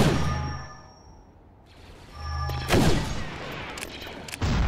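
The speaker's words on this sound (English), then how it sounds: "Firing on that position." Soldiers firing guns in a video game battle, heard as a burst of sharp metallic shots and clangs after a quieter stretch with a low hum. The shots come close together and fairly loud.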